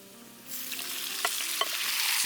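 Beef pieces dropped into hot vegetable oil with chopped garlic burst into a loud, steady sizzle that starts abruptly and keeps crackling, with a few sharper pops and scrapes close by.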